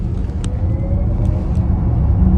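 Interior of an Audi Q4 e-tron 2025 electric SUV under acceleration: a steady low road and motor rumble with a faint rising whine, fairly loud and continuous, no one talking.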